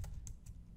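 Quiet keystrokes on a computer keyboard while writing code, three soft clicks spaced about a quarter second apart over a low background hum.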